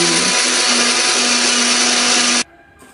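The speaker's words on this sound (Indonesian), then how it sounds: "setelah itu kita akan blender lagi" Kitchen blender whirring steadily as it mixes egg batter with flour, salt, seasoning and pepper for an omelette, loud and close, then cutting off abruptly near the end.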